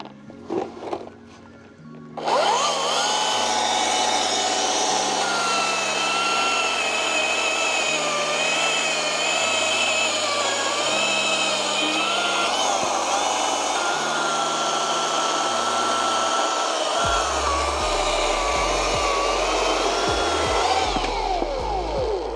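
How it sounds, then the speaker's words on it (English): A Greenworks Optimus high-output gasless chainsaw spins up after a brief quiet start and runs as a loud, steady electric whine on a small log, then trails off near the end. "Over here we have the high output gasless chainsaw"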